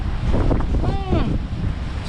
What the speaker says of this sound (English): it's a little bit windy as you can see